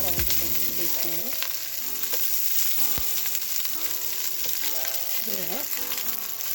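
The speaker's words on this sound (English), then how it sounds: "The oil is pretty hot, so" Vegetables frying in hot oil in a pan, a loud, steady sizzle that runs continuously throughout with some stirring, alone without talk.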